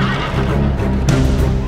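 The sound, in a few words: cavalry horse neighing in a strategy video game battle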